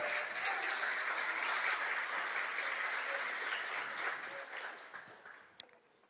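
A church congregation at a worship service applauds in a dense, steady wash that slowly fades out near the end.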